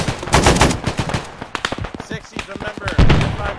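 Bursts of gunfire from M6 guns, rapid sharp cracks in irregular clusters, loud and close, mixed with someone talking over the shots.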